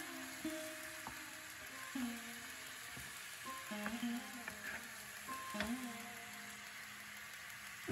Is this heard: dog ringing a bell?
no